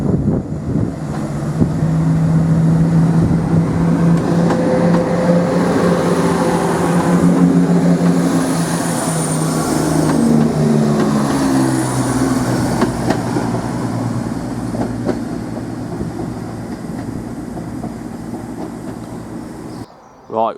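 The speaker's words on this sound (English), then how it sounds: "now departing this time, working the 1540 service to Cambridge." A Class 170 diesel train pulls away from a station, a loud, close engine drone with rising and falling tonal whine as it accelerates, fading gradually over about twenty seconds amid wind buffeting.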